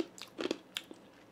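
Berry-flavored candy ice chips being bitten and crunched up close, a few sharp irregular crunches in quick succession that then taper off.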